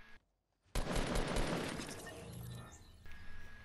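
Fortnite gunfire erupts after a near-silent moment, a dense rattling burst that rings out and slowly fades, close and loud with no voices over it.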